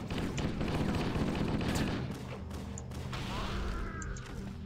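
Halo combat with a frag grenade thrown amid dense rapid gunfire, loud and continuous at first, then easing into scattered shots and a crashing blast with mechanical clanks.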